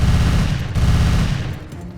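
Dense, rapid bursts of gunfire rattle continuously against a Fallout deathclaw, loud and close, blending into a heavy, booming barrage with no pauses.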